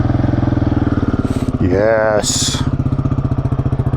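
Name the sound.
motorcycle engine started and idling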